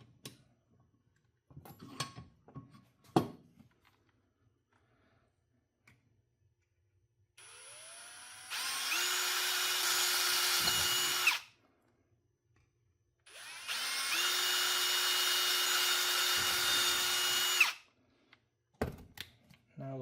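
A power drill bores pilot holes while an aluminum and copper J-pole antenna is mounted in an attic, two sustained whirring bursts of several seconds each, separated by quiet handling clicks and knocks.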